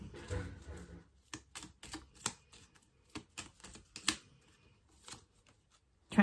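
Healing angel oracle cards being shuffled and tapped, a run of crisp, irregular card clicks and flutters close by, quiet, with no talking.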